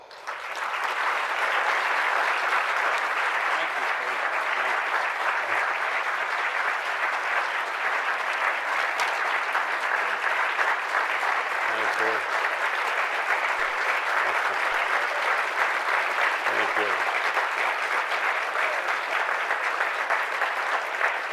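At an evening lecture, an audience welcomes former vice president Walter Mondale with sustained, even applause that holds steady for about twenty seconds, filling the hall without speech.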